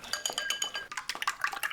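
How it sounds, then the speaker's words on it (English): A utensil beats four eggs in a small bowl, producing a quick, steady run of light clinks and taps against the bowl, close up with no talking. "Beat up 4 eggs in a small bowl"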